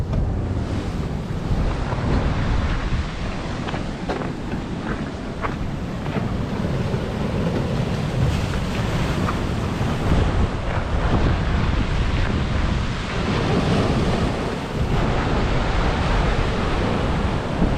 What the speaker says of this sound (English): I'll try and show you the waves as well, guys, with the swells.